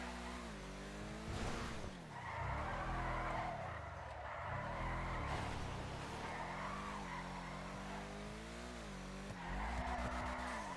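An Ubermacht Cypher car drifting in a video game, its engine revving up and down in repeated sweeping waves while tires squeal in sustained bursts, loud and close throughout.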